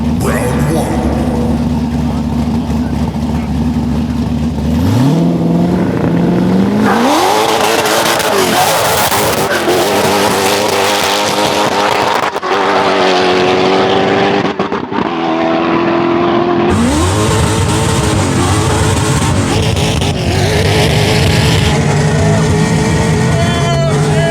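A loud race car engine at a no-prep drag race drones and revs, slightly breaking up, its pitch rising and dropping through several throttle bursts, with voices talking over the roar.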